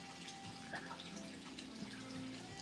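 Water runs steadily into a tub where a dog is being bathed, a continuous splashing rush with faint tonal hums and occasional brief sounds over it.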